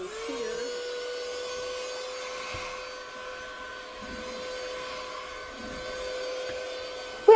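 A small corner-cupboard vacuum runs with a steady, even hum throughout, fairly close and alone, with a brief knock at the very end.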